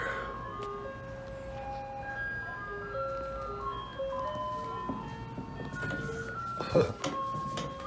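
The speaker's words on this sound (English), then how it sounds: "Yes, the ice cream man is here." An ice cream truck's chime melody plays a string of bright, tinkling notes outdoors, fairly near, with a low street rumble underneath and a brief thump near the end.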